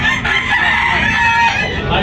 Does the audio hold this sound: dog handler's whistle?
no